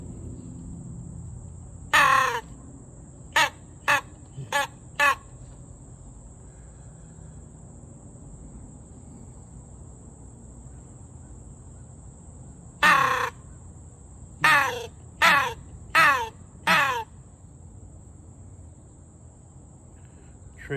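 Crows caw in two bursts of harsh repeated calls, one long caw then several short ones, fairly clear and moderately near, answering a crow call over a quiet outdoor background.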